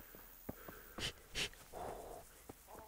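A dog in the medieval game Kingdom Come: Deliverance snorts, wheezes and pants close by in a few short bursts, with a soft whimpering sound between them and no talk over it.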